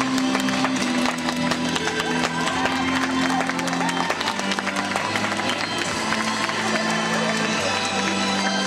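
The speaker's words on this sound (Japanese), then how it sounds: "大きな拍手でお迎えください。" A crowd at a baseball signing event and talk show applauds steadily to welcome a Chiba Lotte Marines pitcher, the clapping continuous with some cheering and background music.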